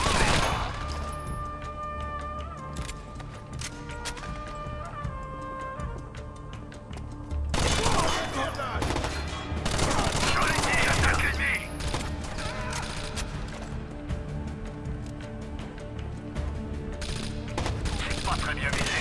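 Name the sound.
machine gun fire in video game Rainbow Six Vegas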